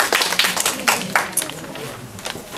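A small group claps briefly in a close, intimate setting, a handful of uneven near handclaps over a couple of seconds, with faint murmuring underneath.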